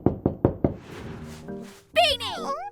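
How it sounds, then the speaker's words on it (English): Four sharp, evenly spaced knocks on a door in a children's animated cartoon, followed by whooshing cartoon sound effects and a bright, sliding tone. "Oh, it's a door, DJ."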